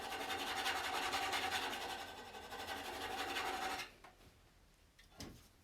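Hook tool being sharpened while resting on a spring pole lathe for bowl turning: a steady abrasive rasping and rubbing for several seconds, fairly close, then stopping, with a couple of faint scrapes afterwards.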